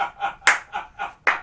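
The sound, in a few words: audience clapping at comedy show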